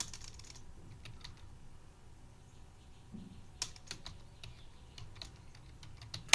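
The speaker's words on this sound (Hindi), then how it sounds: "इसका अमाउंट जो है 250 टाइप कर देंगे" Computer keyboard typing in quiet bursts of soft, close key clicks with pauses between them while an amount is entered in accounting software.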